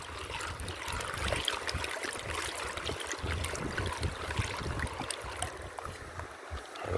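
Water swishes and sloshes steadily in a gold pan during panning with a turbo pan, a continuous wet rush with soft gurgling running throughout at moderate level.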